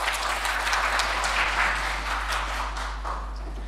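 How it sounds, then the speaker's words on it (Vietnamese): A church congregation at a Vietnamese Protestant service claps together in thanks, a close, lively patter of many hands that gradually softens toward the end. "Hãy vỗ tay cảm tạ Đức Chúa Trời."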